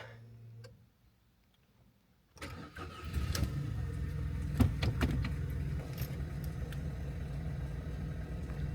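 A used budget car with about 250,000 km on the clock, bought in Germany, is started: after near silence the starter cranks briefly and the engine catches, settling into a steady idle with faint ticking on top.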